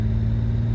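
A Lamborghini Countach's V12 engine rumbles deep and loud, steadily up close for a brief moment, a low throaty drone with no speech.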